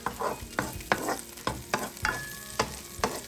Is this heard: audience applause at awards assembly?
no